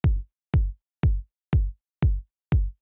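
A clean, soft analog-style kick drum sample with no processing hits six times at an even, steady pace, each a deep rounded thump with a short click that decays quickly into silence.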